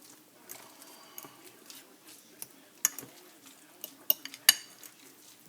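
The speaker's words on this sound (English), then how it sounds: "Mix that all together." Taco filling ingredients stirred together in a bowl, with faint clinks and scrapes of a utensil against the dish and a few sharper taps near the end, quiet and close with no talking.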